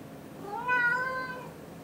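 A domestic cat meows once, a drawn-out rising and falling call in the middle of a quiet indoor room, moderately near.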